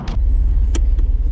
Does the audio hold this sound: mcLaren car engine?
yes